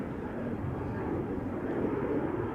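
An Air Europa Boeing 737 climbs out after takeoff from Schiphol Airport, its engines a steady, distant roar and broad rumble that holds evenly throughout.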